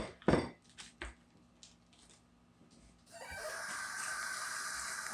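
Pork chops flipped in a hot pan: a sharp clatter of utensil on metal, a few light knocks, then a steady loud sizzle rising as the meat hits the oil, close by with no talk.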